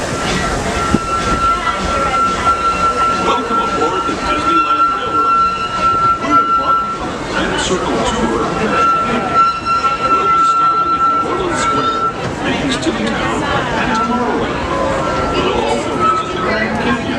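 A Disneyland Railroad train pulls out of Main Street Station, with steady rolling rumble and a sustained whistle-like tone under continuous announcer talk.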